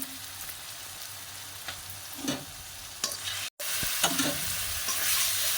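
Chilli, turmeric and cumin powders sautéing in a pan, a steady close sizzle broken by occasional stirring scrapes, with a brief dropout partway through.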